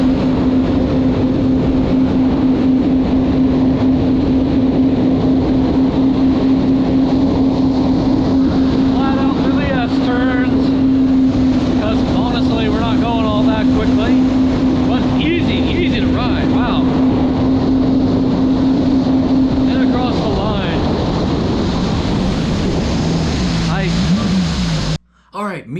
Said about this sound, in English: I'm attempting to beat Jason's lap time on this VX110